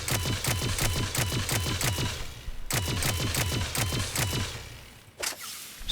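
Two rapid full-auto volleys from the Geth Plasma SMG in Mass Effect 3's Firefight DLC, each a tight string of sharp, evenly spaced shots, loud and close, with a brief pause between bursts and a last single crack.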